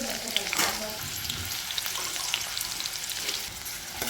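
Chopped onions fry in a hot pan for chole, producing a steady close sizzle with occasional sharper crackles and spits.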